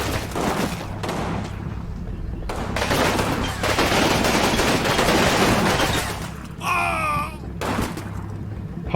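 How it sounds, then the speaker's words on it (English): Sustained machine gun fire and rifle shots in the WWII wargame Combat Mission during a house fight against German troops, with dense overlapping bursts, a brief glassy shatter near the end, and no voices. "Oh, they have a machine gun as well."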